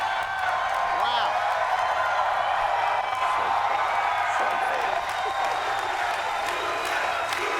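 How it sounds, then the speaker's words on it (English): Audience clapping for the maker at a Star Wars Day celebration: steady, dense applause with a few whoops, continuing throughout with a voice talking over it. "Claps for the maker"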